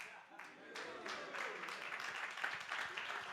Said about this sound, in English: a big round of applause to our previous speaker